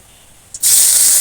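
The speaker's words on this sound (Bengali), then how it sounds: "মাছগুলো এবার ভেজে নেব" Small turmeric-coated fish dropped into hot oil, a near-silent pause broken by a sudden loud burst of sizzling that stays strong and steady up close.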